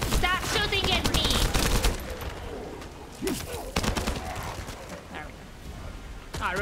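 Bursts of gunfire rattle through a shooter looter video game, moderately loud amid chaotic effects and chirpy bird-like sounds, with a voice talking over parts of the action.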